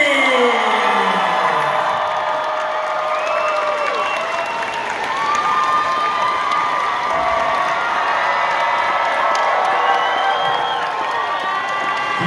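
Large fan expo audience in Denver cheering, whooping and applauding continuously for a celebrity stage entrance, a dense, loud crowd roar with shouts rising above steady clapping throughout.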